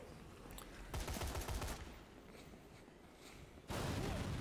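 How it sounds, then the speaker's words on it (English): Distant-sounding bursts of gunfire and explosions from the video game Dead Rising 3, a rattling volley early on and another heavy burst near the end. "Explosions everywhere."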